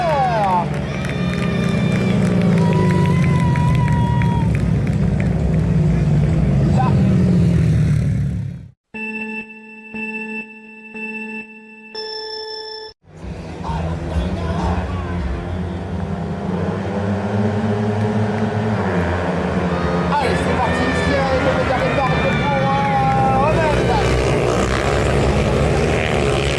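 Grass track racing motorcycles accelerating hard at a European semi-final meeting in Saint Macaire, a loud, steady engine roar with a crowd behind it. A brief break with ringing tones falls midway, and a commentator talks over the racing throughout.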